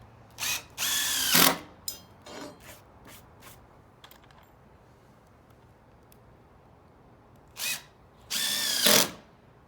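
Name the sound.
screw gun driving screws into plastic decking boards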